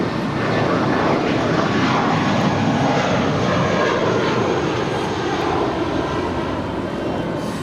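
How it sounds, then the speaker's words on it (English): Spirit Airlines Airbus A320, seven years old, departs Los Angeles LAX for Las Vegas with a loud, sustained jet engine roar that stays strong and steady throughout, easing slightly near the end. "That is Spirit 562 departing to Las Vegas. It's a 7-year-old Airbus A320."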